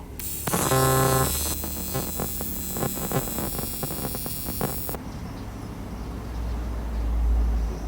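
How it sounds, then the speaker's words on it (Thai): Welding bead run on the upper half circle of a motorcycle intake manifold being converted for a larger YZF-R3 throttle body: a steady crackling, buzzing arc with intermittent ticks for about five seconds, then stopping, leaving low hum. "เดี๋ยวผมจะเชื่อมแค่ครึ่งวงบนนะครับ"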